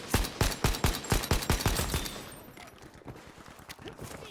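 Suppressed semi-automatic gunfire in Battlefield V comes as a rapid string of close, sharp shots that stops abruptly, followed by quieter ambient game noise.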